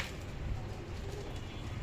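Pigeons, a mother and father with two chicks, coo softly beneath a steady, close, low rumbling background that continues throughout.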